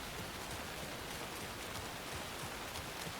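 Steady rain from the Alan Wake 2 video game, a dense, even wash of falling drops spread across the whole clip with no voices over it.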